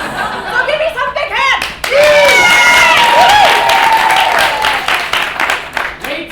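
A live anniversary comedy show audience claps and cheers loudly, a dense wave of applause mixed with laughter and whoops that swells and lingers, with talking over it.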